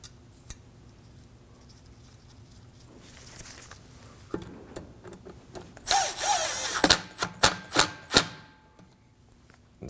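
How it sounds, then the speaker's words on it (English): A power tool drives a rotor screw into a brake rotor on a 2016–2022 Honda Pilot, heard as short whirring bursts and repeated stop-start pulses near the end, following quiet clinks and handling sounds. "Now we can install our rotor screw."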